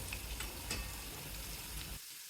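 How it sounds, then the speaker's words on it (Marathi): Veg manchurian balls deep frying in hot oil give a steady, dense sizzle with soft bubbling crackles that cuts off sharply just before the end. "तर आपला मंचुरियन आपल्याला तळताना दिसून येत आहे"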